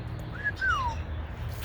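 Pet birds in an outdoor aviary give two clear, whistled chirps in quick succession, the second sliding downward, over a steady low background hum.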